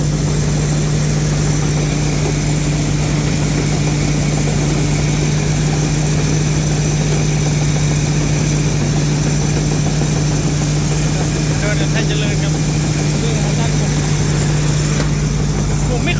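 A rice combine harvester's engine idles quietly and steadily, a low even hum holding without change throughout, with a faint higher whine above it.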